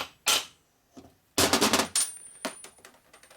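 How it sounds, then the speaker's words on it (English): A sudden metallic clatter rings out as a plate falls out of a Revtech transmission during a Harley shovelhead rebuild, a few sharp clanks in quick succession, then scattered smaller taps settling close by. "That was a plate that just fell out."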